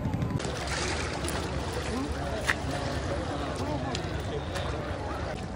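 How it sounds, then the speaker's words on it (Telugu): Wooden rowboat rocking on the river at the Prayagraj Mahakumbh near the Triveni Sangam, with steady broadband water wash and creaking motion throughout, and a voice talking over it. "గట్టిగా ఊగుతుంది పడవ."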